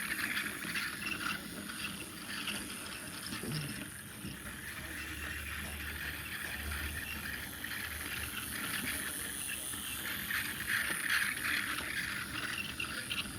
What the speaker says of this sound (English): that one obviously has a louder motor than this one